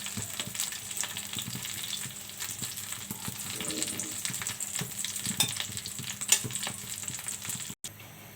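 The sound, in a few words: frying snakehead fish in oil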